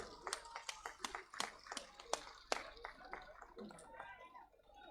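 Scattered clapping from a crowd at a large political rally in Haryana, India, faint and somewhat distant, with sharp individual claps in an uneven rhythm and some voices mixed in.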